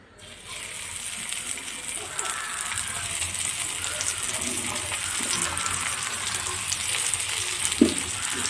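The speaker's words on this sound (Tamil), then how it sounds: "இதுங்க இருக்கிறத பொரிச்சு எடுத்துக்கலாம்" Slices of karunai kizhangu yam shallow-fry in oil in a pan, giving a steady, close sizzle throughout with a single metallic clink near the end.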